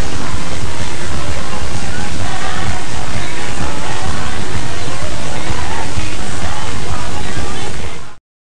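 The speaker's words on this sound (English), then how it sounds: "After the optimization, the generated music becomes like this." Dense, loud, noisy output from a variational autoencoder music generator after optimization, a constant wash of hiss and sloshing, water-like texture filling the whole range with no clear notes, running steadily for about eight seconds, then cutting off.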